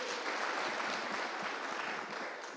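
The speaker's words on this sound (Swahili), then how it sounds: "Pigia Mariko makofi." A political crowd in Kajiado, Kenya, claps for Mariko at a leaders' gathering: a dense, steady burst of many hands that holds through and eases off slightly at the end.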